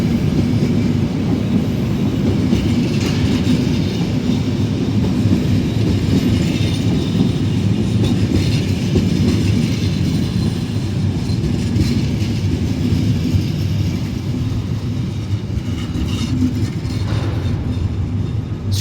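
Trains rumble through Lisbon Oriente station, a continuous loud rolling roar with clickety-clack of wheels and faint squeals throughout, with no voices.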